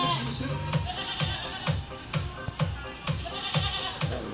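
Goats bleat in a fast, regular series of short, nasal cries, close and fairly loud, with no talk over them.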